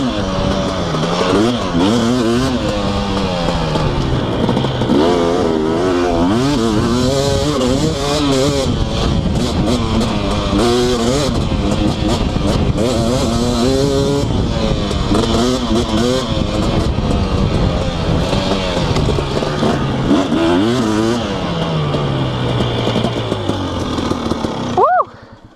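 A KTM 250SX dirt bike engine revs and buzzes continuously on a rocky mountainside, its pitch rising and falling with the throttle, close and loud throughout, with a rider's voice heard faintly under it.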